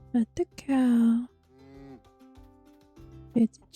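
Cow in the farming game Sun Haven gives a loud, drawn-out moo after a couple of short sharp knocks, followed by softer lingering tones and another brief knock near the end.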